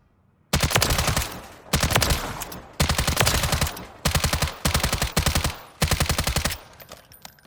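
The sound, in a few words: NG LVAW assault rifle firing in Call of Duty video game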